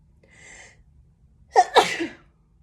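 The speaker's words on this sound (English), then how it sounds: "I'm about to sneeze." A single close, loud human sneeze bursts out with a sharp double explosive release, preceded by a faint breathy inhale and followed by a brief trailing exhale.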